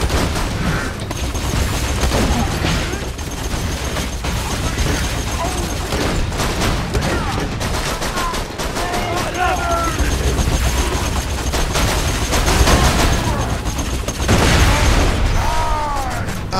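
Dense, continuous gunfire and booming impacts from a Borderlands 2 co-op firefight, loud and busy throughout with scattered bursts and pops, while players talk over the action.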